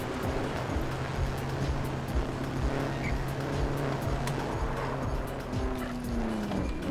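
A high-torque post-apocalyptic truck drives in the game Trailmakers, its engine a continuous loud drone that rises and falls in pitch as it accelerates, with tire noise beneath.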